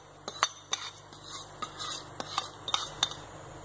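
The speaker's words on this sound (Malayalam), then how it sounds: "ഇനി നമുക്ക് നമ്മുടെ കാടയിലോട്ട് ഇത് തേച്ച് കൊടുക്കാം." Pepper, turmeric and salt spice mix being rubbed by hand onto quail, with soft close rubbing and a few sharp clinks of utensils or dishes scattered through a few quiet seconds, no talking.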